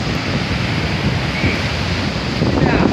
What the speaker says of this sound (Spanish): el océano viejo cuando se enfurece